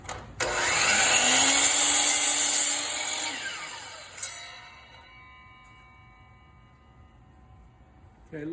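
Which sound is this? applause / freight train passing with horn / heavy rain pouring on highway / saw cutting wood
saw cutting wood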